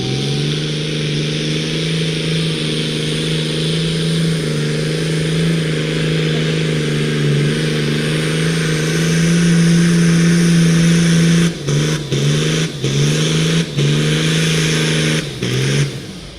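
A tractor engine at the Great Dorset Steam Fair tractor pulling runs loud and close with a strong steady drone, then revs in a series of sharp surges and dips near the end.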